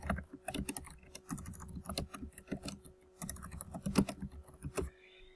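Typing on a computer keyboard while entering text in a website editor, rapid irregular key clicks in close bursts with brief pauses, no talking.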